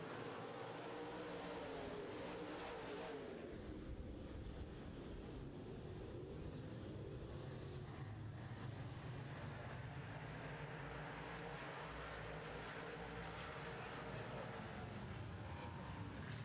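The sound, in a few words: modified race cars racing on a track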